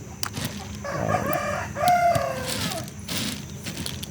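Hens and a rooster in a backyard flock, clucking repeatedly with a clear crow rising through the middle, fairly close and with no one talking.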